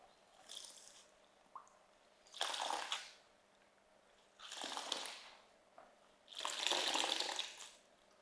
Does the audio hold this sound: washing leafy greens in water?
yes